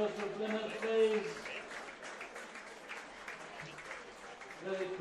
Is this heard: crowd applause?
yes